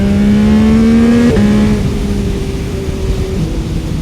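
A motorcycle engine revs hard up through the gears, a loud close tone climbing steadily before a quick shift drops the pitch and it pulls again.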